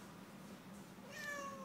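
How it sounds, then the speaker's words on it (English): A single soft meow rises near the end after a moment of quiet room noise, close but fairly faint. "Can you meow one more time?"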